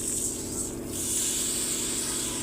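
Hot ghee hissing steadily as bay leaf and Gobindobhog rice go into the pan, a continuous soft sizzle with a faint hum beneath and no talking.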